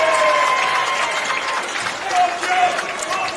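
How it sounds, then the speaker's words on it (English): An indoor crowd at a men's basketball game swells with cheering and scattered clapping for both teams, a broad, sustained roar with a few whistle-like tones, heard behind ongoing commentary. "Crowd starting to lift for both teams"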